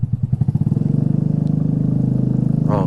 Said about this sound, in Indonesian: Wih, suaranya mantep banget nih emang. Knalpot R9 Alpha.